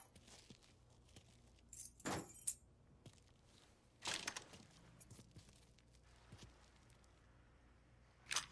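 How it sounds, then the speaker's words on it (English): A set of keys jangles in the video game Mafia III: Definitive Edition, heard as a few short metallic rattling bursts spaced seconds apart over a quiet, low background. "Hey man, grab those keys."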